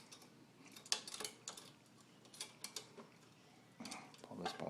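Bolt pulled out of a wheelchair frame during a modification, heard as soft scattered metallic clicks, scrapes and rattles at close range, irregular and quiet, growing busier toward the end.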